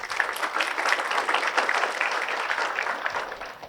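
Applause during a session, a dense, even patter of many hands clapping together at moderate loudness for a few seconds with no talk over it.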